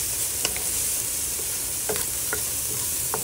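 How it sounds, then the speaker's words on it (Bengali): Bottle gourd frying over high heat in a pan, a loud continuous sizzle with occasional scraping stirs of a spatula, close and steady throughout, no voices. "ঘন ঘন নাড়তে হবে।"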